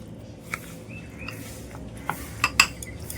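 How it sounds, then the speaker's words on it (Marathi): Raw mango chutney is stirred in a pan, giving a few sparse clinks and scrapes of a utensil against metal over a quiet background, with the sharpest knocks near the end. "आता आपण थोडी मिक्स करून घेऊया। ही चटणी अशी खालीवर करून घ्यायची आहे"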